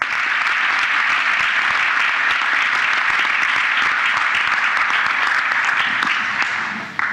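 A large audience at a keynote speech applauds, with dense, sustained clapping filling the hall at a steady loud level for several seconds before it starts to fade.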